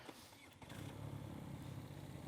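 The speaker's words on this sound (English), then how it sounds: "That boxer engine rotating side to side." A BMW R NineT boxer motorcycle engine fires up, with a brief starter crank followed by a steady, loud, rumbling idle close by.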